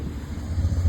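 Strong, cold wind rumbles and buffets the microphone, a low roaring gust that builds toward the end, with no voices.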